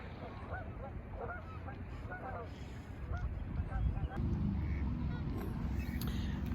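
Geese honk repeatedly with ducks among them at a lake waterfront in Barrie in winter, a faint, fairly distant chorus of scattered calls over low background rumble and soft voices.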